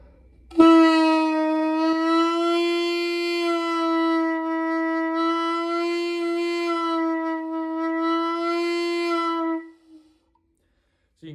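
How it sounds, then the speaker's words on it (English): A single sustained saxophone note held steadily for about nine seconds, its pitch bent flat and sharp in slow waves while the player keeps the cheeks tight, loud and alone before stopping abruptly. "go as sharp as you can in waves. It's going to sound like this."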